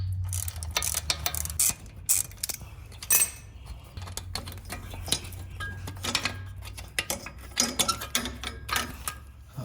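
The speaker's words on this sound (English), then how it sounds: "I'm going to use the same 10mm socket to remove this bolt securing the brake line" A 10mm socket on a ratchet works loose the brake line bracket bolt at the lower spring perch of a Jeep Wrangler JL, with rapid ratchet clicking in bursts, metallic clinks and a low background hum, close, no talking.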